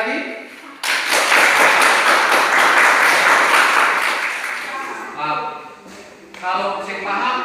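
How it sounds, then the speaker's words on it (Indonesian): A classroom of students bursts into applause for groups 1, 2 and 3, dense clapping that swells then fades, with voices talking over the tail end. "untuk kelompok 1, 2, 3 kita berikan tepuk tangan lagi sekali lagi"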